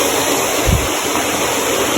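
Water rushing steadily from a falls or spring up the slope, a constant broadband roar with a brief low thump partway through, close and alone with no talk.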